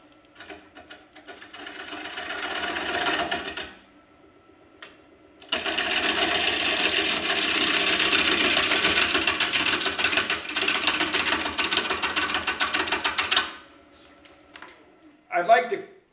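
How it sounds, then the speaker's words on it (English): A heavy Stratos XL wood lathe roughs out a large maple bowl, the gouge cutting in bursts of loud rattling chatter separated by brief quieter gaps, with a sharp short cut near the end. "You don't count the weight of the bowl because that's spinning and it could be off balance, so it's a good heavy lathe."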